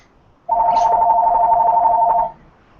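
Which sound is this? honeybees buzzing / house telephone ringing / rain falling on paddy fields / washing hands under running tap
house telephone ringing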